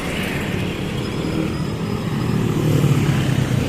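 Street traffic near Bolton Bridge over a river in Davao City, Philippines: a steady, close wash of passing cars and motorcycles with engine drone that swells slightly toward the end, no voices.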